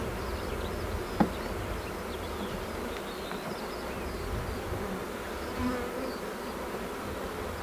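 Honey bees buzz continuously at a beekeeping site, a dense, steady drone close by, with one brief click early on.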